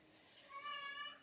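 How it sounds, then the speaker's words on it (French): A Siamese cat named Samu cries with one drawn-out, tonal meow, faint and somewhat distant in a quiet room. "Désolée, il y a un chat qui pleure"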